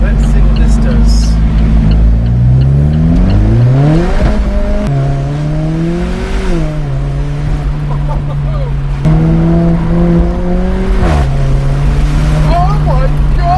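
Alfa Romeo 4C Spider engine in race mode revving hard through repeated upshifts, a loud, close engine note climbing in pitch, dropping at each gear change and climbing again, with a person talking over it.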